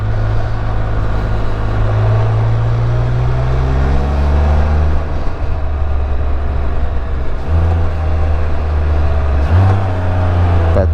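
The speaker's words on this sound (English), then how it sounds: "That's me purposely downshifting." A 2022 Can-Am Spyder F3L runs loud and close, its engine note sliding and then jumping sharply up in revs twice as it downshifts.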